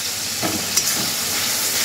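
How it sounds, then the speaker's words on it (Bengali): Tomato paste fries in a pan for a crab curry, giving a soft steady sizzle with a brief stirring scrape near the middle and no voices. "টমেটো বাটাটা ভালো করে কষিয়ে নেব।"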